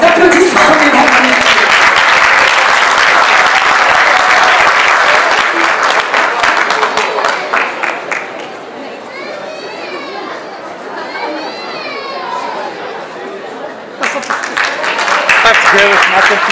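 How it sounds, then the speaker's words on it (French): Audience applause at a graduation ceremony for a business school's higher-degree diploma presentation: loud, dense clapping fills the first half, then fades to a thinner patter under a speaking voice before swelling again at the end. "si vous applaudissez, mesdames"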